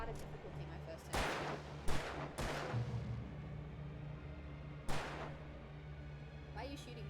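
Gunfire in the Alan Wake video game: a few loud, sharp shots spaced irregularly over a steady low background hum, some close together and one arriving several seconds later.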